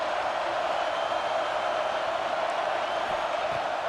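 A packed football crowd at Autzen Stadium during a game against Cal keeps up a steady, dense roar of cheering and noise, loud and unbroken throughout with no standout voices.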